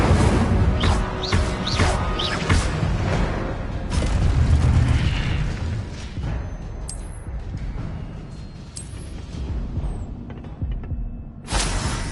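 Incendio fire spell blasts cast in Hogwarts Legacy, loud booming bursts and crackling eruptions rolling over several seconds, with a fresh blast near the end and no talking.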